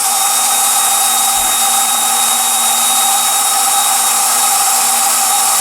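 An abrasive disc on a power tool sands a steel Mjolnir handle, giving a loud, continuous high whirring grind that holds steady from start to finish.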